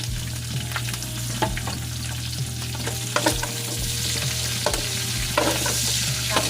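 Onion and garlic sauté in a hot pan, a steady sizzle broken by scraping stirs from a utensil every second or so, close and fairly loud with no talking.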